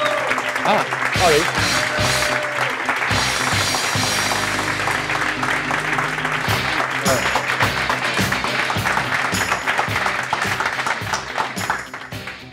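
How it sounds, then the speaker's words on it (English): A standing audience at a Startup Grind Barcelona event applauds Timo Buetefisch, founder and CEO of Cooltra, with dense, sustained clapping and cheering that runs steadily throughout, while people talk over it and a low hum sits underneath. "give the warmest rock star applause for Timo Buetefisch"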